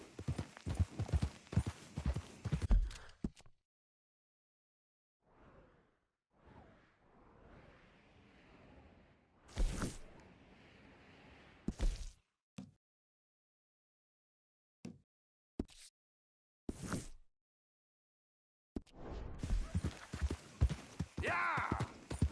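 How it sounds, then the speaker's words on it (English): Horse hooves clip-clopping in Red Dead Redemption 2 on PS4 Pro, bursts of rhythmic steps with silent gaps between them and louder hoof runs at the start and end. "Where's that horse got to?"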